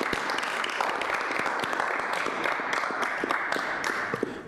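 Sustained applause from attendees at a citizens' public safety review and appeal board meeting, honoring a departing member after six years; dense, even clapping throughout that thins slightly at the end.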